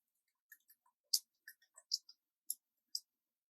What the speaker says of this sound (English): I will type that.